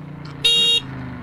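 A motorcycle horn gives one short, bright honk over a low idling engine hum, close by.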